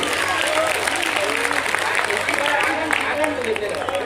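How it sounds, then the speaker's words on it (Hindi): An audience at a Hindi poetry gathering, a kavi sammelan at a college, claps in a loud, dense burst that stays steady throughout, with voices and crowd murmur mixed in. "तो एक बार जोरदार तालियां बजा तो"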